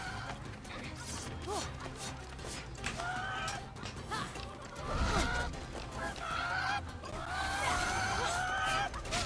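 Wild chickens attacking in a fantasy video game, loud clucking and honking fowl squawks piling up over a dense, busy game soundscape, with crashes and repeated bird cries throughout.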